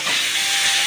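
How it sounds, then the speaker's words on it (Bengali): Okra and potatoes fry in a pan with a continuous bright sizzling hiss, close and steady, with no voices. "এই যে ঢেঁড়স আলু ভাজা হচ্ছে।"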